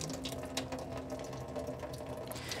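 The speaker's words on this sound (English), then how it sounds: "Just drain the water out." Water being drained from a can of whole kernel corn, a steady close trickling and gurgling stream with a light rattling texture, unbroken for a couple of seconds.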